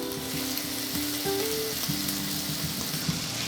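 A beef sauce cube melting and sizzling with small diced potatoes in a hot pan, giving a dense, steady frying hiss close up, with faint stirring scrapes and no talking.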